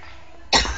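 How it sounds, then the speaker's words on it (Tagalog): A single short, sharp cough from a person nearby bursts out after a quiet moment, loud and rough, with a brief throaty tail. "Inuubo ka."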